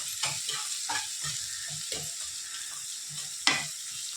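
Egg curry masala fries in a pan for kodiguddu pulusu, a close sizzling hiss broken by regular scraping stirs and a sharper clack near the end, with no talking.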